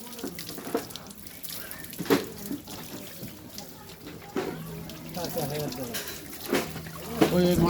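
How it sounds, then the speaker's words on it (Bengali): Water is poured from a vessel over a person's head at home, with splashing and trickling bursts coming and going close by under ongoing talk. "ঢেল দাও পানিটা ঢেল দাও"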